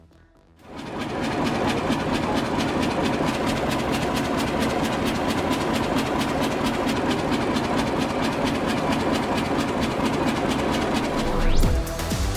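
A colossal 1929 Sulzer vertical multi-stroke stationary diesel engine, an old heavy-duty museum unit, starts up and settles into a loud, steady low-RPM rhythm of closely spaced mechanical beats that runs without a break and without voices.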